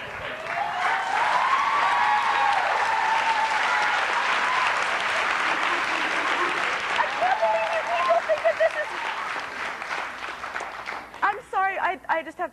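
A studio audience on a 1990s TV talk show applauds loudly and continuously with cheering mixed in, fading over the last few seconds as a voice starts speaking.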